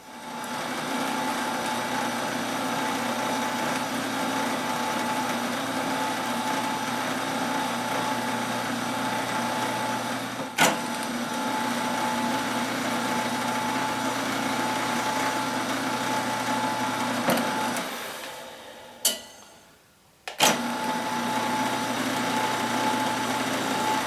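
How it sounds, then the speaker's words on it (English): Power drill running steadily as it bores and countersinks holes in wooden end retainer boards for a ukulele-building auxiliary table, a continuous loud whine with a brief pause and a short gap near the end. "here we have the holes drilled and countersunk"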